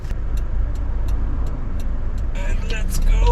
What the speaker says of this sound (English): Traffic is crazy, as always in Sydney.